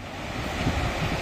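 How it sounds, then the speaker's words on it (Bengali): Rough sea surf at Digha beach under stormy, rainy wind, a dense continuous roar of breaking waves with blustery wind buffeting the microphone. "আজ বৃষ্টি সঙ্গে ঝোড়ো হাওয়া, তাই সমুদ্র উত্তাল।"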